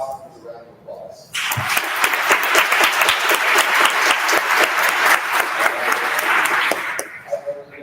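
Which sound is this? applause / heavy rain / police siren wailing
applause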